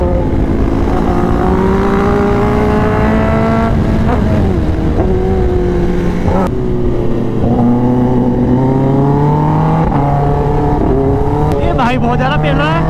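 A Kawasaki ZX10R superbike accelerates hard on the road to overtake. Its loud engine note climbs steadily in pitch through the gears, and a rider talks over it throughout.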